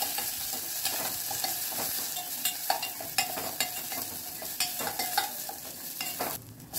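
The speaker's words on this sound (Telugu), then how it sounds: "మనం నూరి పెట్టుకున్న మిరియాలు, వెల్లుల్లి మిశ్రమాన్ని కూడా దీనిలో వేసుకొని ఒక 2 నిమిషాలు ఫ్రై చేసుకోవాలి." Pepper and garlic paste frying with curry leaves in a pan for pepper rasam, a continuous sizzle broken by frequent clicking stirs and scrapes of a spoon, close up with no voices.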